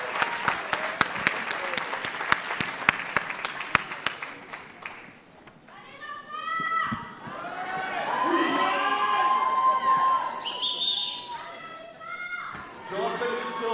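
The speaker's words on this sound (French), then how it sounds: "Allez, on les applaudit." An audience at an exhibition match featuring Rafael Nadal and Gregory van der Wiel claps in sharp scattered bursts, then swells into loud cheering and shouts that carry on steadily.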